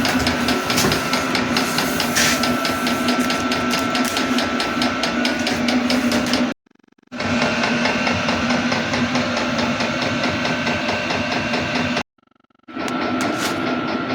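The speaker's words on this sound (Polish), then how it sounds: "hałas taki od tej pompki Jakbym miał silnik jakiś taki, wiecie, dwusuwowy." A small pump runs aboard a yacht being prepared for winter, putting out a loud, steady, rattling mechanical drone much like a two-stroke engine. The sound cuts out briefly twice before starting again.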